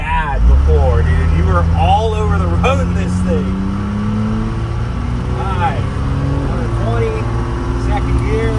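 A 1000+ hp Cummins-swapped Squarebody truck accelerates hard through its gears, its diesel drone climbing and dropping at each shift while people talk over the steady, close engine roar.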